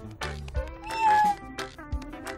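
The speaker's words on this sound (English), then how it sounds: "This little kitty was the very first neighbor to visit" A cartoon kitty meows several times in a row, clear and close, with rising and falling cries and short gaps between them, alone without talk.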